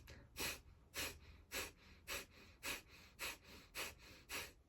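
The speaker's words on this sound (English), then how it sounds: "Inhale for breath of fire." Rapid, rhythmic breath-of-fire exhalations during a guided breathing exercise, about ten sharp forceful puffs through the nose in steady succession, close and fairly quiet.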